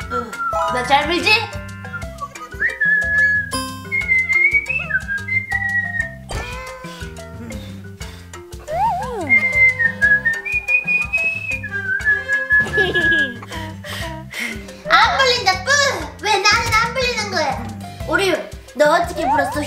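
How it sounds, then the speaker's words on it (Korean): A child whistles a few sustained, wavering notes in short phrases, with children and adults talking and laughing around it in a lively room. "우와, 휘파람 잘 분다."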